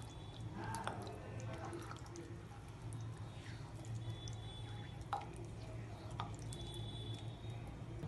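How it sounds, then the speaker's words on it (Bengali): Mutton keema stirred in a pan: soft, moist squishing and a few faint scraping clicks, quiet and close, over a low steady background hum. "এইবার খুব ভালোভাবে এটাকে মিক্স করে নিতে হবে।"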